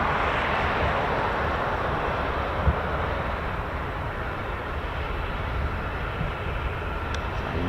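A Lockheed MC-130J Commando II turboprop departs RAF Mildenhall, its engines a loud, steady broadband roar that holds throughout with no voices.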